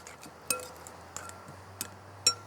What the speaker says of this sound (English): So in with that, and we'll give that a stir